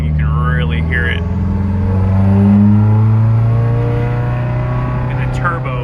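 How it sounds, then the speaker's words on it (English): A loud exhaust on a project car cruising at steady speed, a deep continuous droning rumble that swells slightly midway, heard from inside the car without talk. "This exhaust is loud. Just cruising, you can really hear it."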